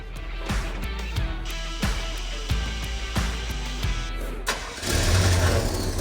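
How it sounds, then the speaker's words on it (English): A square-body K10 truck engine cranks with a series of rhythmic chugs, then catches and runs with a rough, noisy, puffing exhaust from an exhaust leak, close by, no speech. "Got a brutal exhaust leak though."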